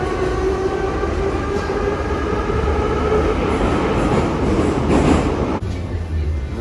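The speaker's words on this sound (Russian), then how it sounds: "как вам на метро поездочка?" Continuous rumble and rattle of a Kyiv metro train in motion, loud and steady, with faint voices under the noise.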